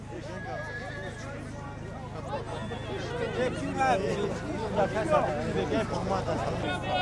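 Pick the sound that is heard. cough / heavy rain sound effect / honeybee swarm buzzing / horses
horses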